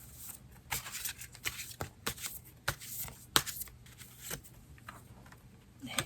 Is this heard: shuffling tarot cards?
yes